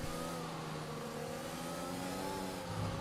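A Mercedes Formula 1 car engine in the video game F1 2021 at Spa drones steadily under load, a sustained mid-pitched whine with harmonics and no speech.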